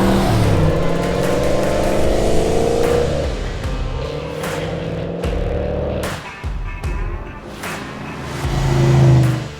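A 1971 De Tomaso Pantera drops a gear and accelerates hard, its engine note climbing in several loud rising sweeps punctuated by shift breaks, close and strong throughout with no talking.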